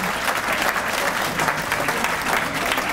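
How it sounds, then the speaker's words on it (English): A church audience gives the pastor a round of applause at a State of the City event, a dense, steady wash of many hands clapping at once, loud and continuous throughout. "Round of applause"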